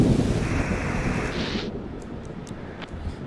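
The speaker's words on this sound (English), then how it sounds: "A severe storm is approaching." Deep rumbling thunder from a severe coastal storm in a horror game, a low roar with wind that fades after the first second and a half, then quieter gusty rumble with a few faint clicks.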